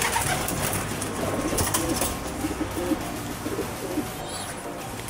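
Small pigeons kept as pets coo softly amid a busy, rustling background, with low throaty calls scattered through the stretch and a brief high chirp near the end.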